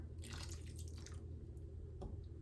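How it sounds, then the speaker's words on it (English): Water poured from close by into peanut butter brownie mix in a home kitchen, a steady splashing trickle with a brief gurgle near the end and no voices. "next we're going to go in with our water"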